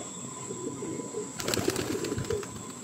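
A pet racing pigeon with a double leg band coos softly and close by, low throaty calls rolling through the second half over faint background hum, with a light flutter of movement.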